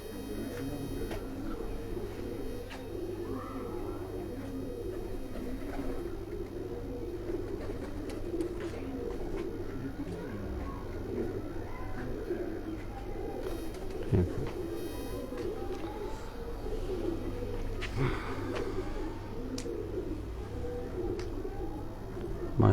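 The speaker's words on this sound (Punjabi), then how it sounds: "ਕਸੂਰੀ ਕਬੂਤਰ ਦਾ ਤੁਹਾਨੂੰ ਸ਼ੌਕ ਕਰਾ ਰਹੇ ਹਾਂ ਜੀ।" Kasuri pigeons cooing softly on a rooftop, with low repeated coos and faint bird chatter under steady background noise, a voice talking at times.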